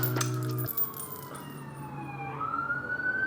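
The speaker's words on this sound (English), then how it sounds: "y'all are probably like, why there's always ambulances passing by my apartment?" An ambulance siren passing by an apartment near a fire department, its wailing tone sliding down then rising again, clear above a low street rumble.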